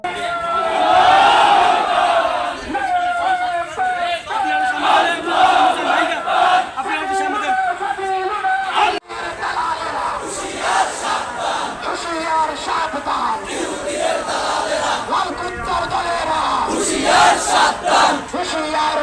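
A large Islamic movement protest march in Bhola, Bangladesh, against Israeli aggression on Gaza: a dense crowd chants slogans loudly and continuously in unison, with rhythmic call-and-response bursts carrying through the whole stretch.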